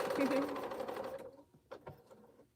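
Sewing machine stitching quilt pieces: a brief, close, rapid mechanical whir runs for about a second and then stops, followed by a person talking quietly.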